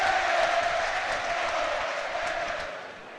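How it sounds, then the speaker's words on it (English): Middlesbrough FC football crowd in a stadium, a broad roaring swell of cheering and clapping that holds steady for a few seconds and then eases slightly. "And listen to the crowd, the difference is amazing now."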